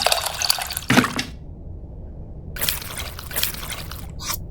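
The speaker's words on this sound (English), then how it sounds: "Warm water." Warm water poured and splashed in the video game Venba, in short bursts broken by quiet gaps, close and clear.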